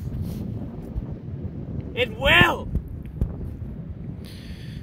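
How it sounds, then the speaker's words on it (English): Wind blows across Mulranny golf course in Ireland, a steady low rush buffeting the microphone throughout, with brief speech and a few sharp sounds rising over it. "But it's windy"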